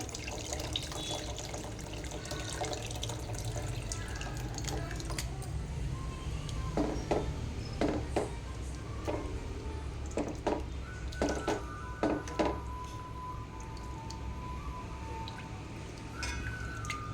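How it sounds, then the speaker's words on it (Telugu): Soaked tamarind is squeezed by hand in water for a fish stew, giving soft, intermittent wet squelches and small splashes over a low background hum. "ఇది విసుక్కుందాం చింతపండు ఇలా"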